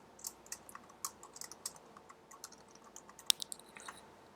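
Rapid, uneven clatter of keys on a computer keyboard while someone codes a Java solution, close and fairly loud, with short pauses and one sharper click near the end, no voices.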